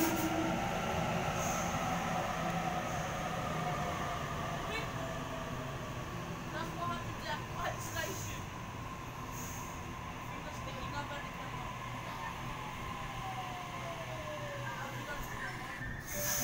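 A Sydney Waratah electric train departs the station with a steady rumbling drone, rising whine and faint wheel squeal, as a voice speaks nearby and station announcements play.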